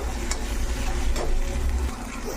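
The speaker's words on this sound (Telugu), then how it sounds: "అల్లం వెల్లుల్లి పేస్ట్ పచ్చివాసన పోయే వరకు వేగనిచ్చి" Ginger garlic paste frying in hot oil for a bottle gourd curry, a steady close sizzle with faint stirring scrapes, no voices over it.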